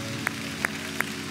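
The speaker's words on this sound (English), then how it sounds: "Come on, clap those hands and praise him." A congregation in church claps together in a steady rhythm, four sharp, evenly spaced claps over a continuous murmur of voices and music.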